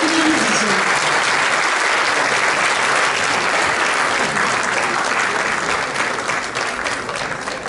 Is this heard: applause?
yes